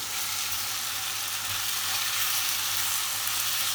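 Fajita filling of chicken and vegetables sizzles and fries steadily in a pan, a dense continuous hiss with soft stirring beneath it, close and fairly loud with no voices.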